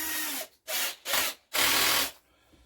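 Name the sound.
drill bit drilling out rivets on stationary engine tin work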